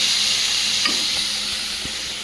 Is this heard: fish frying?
yes